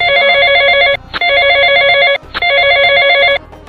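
A telephone rings loudly and close by in three long electronic trilling bursts, each separated by a short gap.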